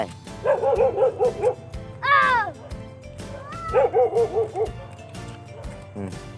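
A dog barks in rapid bursts of yips and yelps nearby, with a rising whine between the barking runs.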